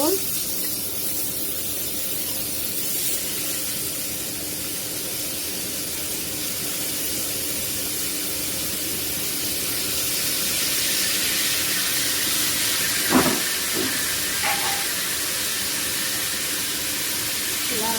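Potatoes, carrots and papaya fry in a pan with a steady, even hiss lasting the whole stretch, plus a few brief clinks of a utensil near the end.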